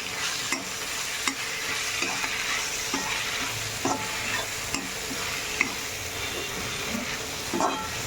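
Raw mango pieces sizzle steadily in a hot pan, with a spoon scraping and stirring in irregular clicks over the constant frying hiss, fairly quiet and close.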